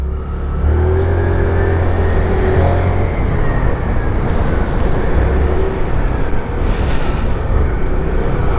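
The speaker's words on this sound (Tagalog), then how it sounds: "Ang lakas na motor na to." A Lambretta G350 scooter engine runs under way, a loud steady drone with wind rush and a shifting low tone that rises and settles as it rides.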